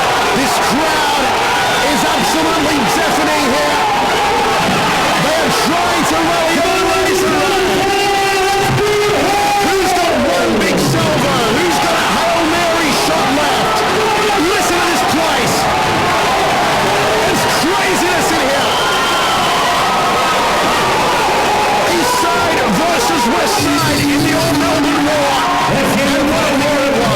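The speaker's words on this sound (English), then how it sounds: "This crowd is absolutely deafening here." Deafening, continuous roar of a packed crowd cheering at an MMA fight between Ray Dimachki and Phillip Salisa, with swelling shouts and surges throughout and a commentator talking over the noise.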